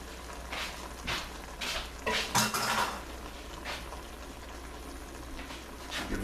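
A spoon clinks and scrapes through a shrimp and spinach mixture with mushrooms in a metal pan, a run of close, uneven metallic knocks peaking in the middle over a low simmering bubble, with no talking.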